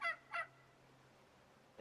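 Turkeys in the survival game Soulmask let out two short, quick gobbling calls at moderate distance, followed by a quiet, low hum that continues for the rest of the moment.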